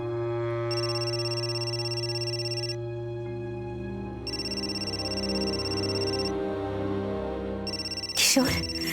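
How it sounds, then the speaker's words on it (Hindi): A telephone rings with a repeating electronic ringtone in bursts across the clip over a steady tonal background, followed by a brief clatter near the end as the handset is picked up. "ताई का फोन है।"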